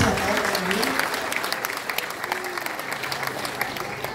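An audience at a Christmas food-basket handout applauds steadily, a dense, fairly close clatter of many hands holding at an even level throughout, with a few voices mixed in.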